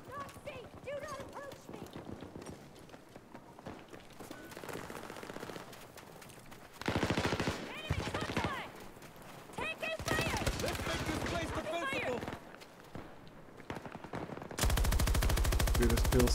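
Gunfire from guns in Battlefield 2042 rattles in dense automatic bursts, with several loud, close sustained strings of shots and quieter stretches between them, amid busy battlefield noise.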